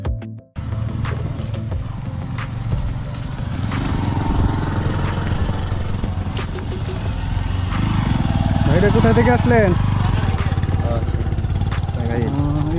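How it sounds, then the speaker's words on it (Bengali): Motorcycle engines hum and rumble on a hill road to a hilltop lookout in Tangail, rising gradually as the bikes approach, heard beneath people talking close by. "মোটরসাইকেল নিয়ে আসতেছে দেখার জন্য।"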